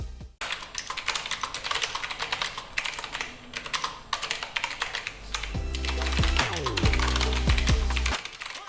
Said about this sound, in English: I went with the wireless Azio Retro Classic keyboard, which simulates the look of a typewriter, but the feel of a mechanical keyboard